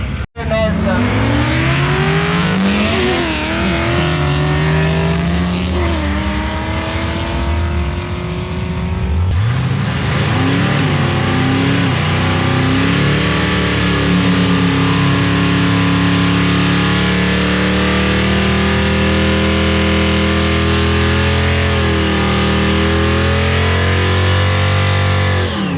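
A 1150 hp twin-turbo V10 Lamborghini Huracan roars continuously at a drag strip, revving hard with rising and falling engine pitch and tyre noise while spinning its tyres to warm them, loud and close throughout.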